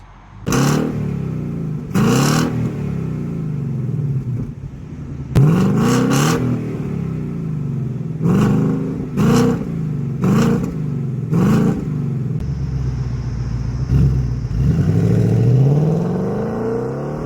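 A 2020 Ford Mustang GT V8 in track mode is revved repeatedly while parked, with sharp loud blips and rising, falling engine roars separated by a steady idle rumble, ending on a longer rev.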